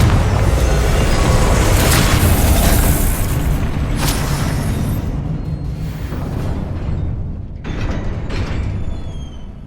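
A Confringo blasting spell detonates in the game Hogwarts Legacy, a loud, deep booming explosion with rumbling debris that rolls on for several seconds and gradually fades, followed by a smaller second burst.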